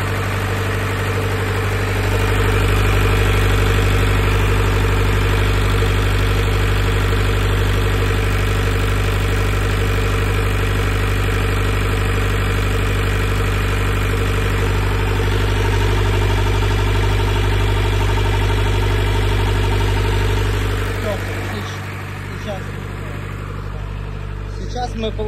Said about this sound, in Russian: Запустили мотор.